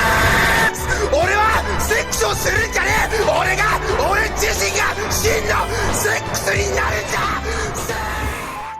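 Loud yelling from people in Japan, with repeated shouting voices rising and falling over a continuous noisy background and a low rumble, steady and close throughout.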